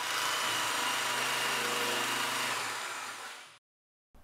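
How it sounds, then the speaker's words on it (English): An electric metal shear runs steadily, cutting sheet metal for a heat shield while a Kenmore gas grill is rebuilt, a loud continuous whirring buzz that ends abruptly after about three and a half seconds. "I happened to have an electric metal shear that made fast work of this cut."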